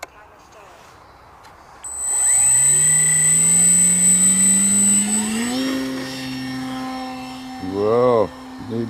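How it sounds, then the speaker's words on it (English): An electric FMS Piper J3 Cub model plane spools up from quiet to a loud, rising high-pitched motor whine as it takes off, then the pitch wavers as it climbs away. "So let's get this plane up in the air."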